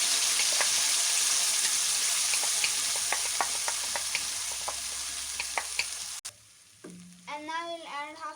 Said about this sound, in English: And now we'll put our vegetable gravy that we have grind.